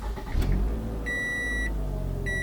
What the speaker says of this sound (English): you should start the engine again